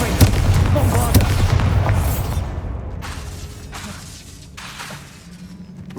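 Explosive spell blasts from Confringo and Bombarda in Hogwarts Legacy, booming and crackling bursts with scattered shattering, loudest early and then thinning into separate thumps while a man calls out spell names.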